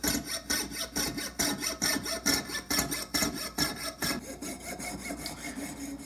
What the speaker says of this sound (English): Once you get a little bit beyond the halfway point, it usually smooths out and the cut is a lot easier.